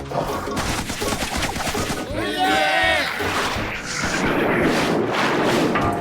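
A cartoon cannon fires in a loud, chaotic burst of booming blasts and crackling gunfire with whooshing sweeps, busy and continuous, with shouting voices mixed in.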